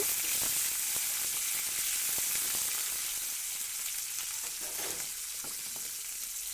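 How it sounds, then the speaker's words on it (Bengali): Flat beans fry in a hot pan as vegetables go in for a drumstick-flower curry, with a steady bright sizzle throughout and occasional soft scrapes as they are stirred. No one speaks. "শিমটা দিয়ে একটু নাড়াচাড়া করে নেব।"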